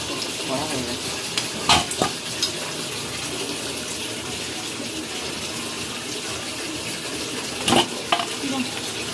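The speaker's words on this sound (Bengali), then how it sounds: "পকোড়ার আওয়াজ শুনে বুঝতেই পেরেছো পকোড়াগুলো কতটা ক্রাঞ্চি, কতটা মুচমুচে হয়েছে" Crispy chicken pakoras are stirred and lifted out of hot oil, with a continuous bubbling sizzle broken by two sharp scraping clatters. A voice talks quietly underneath.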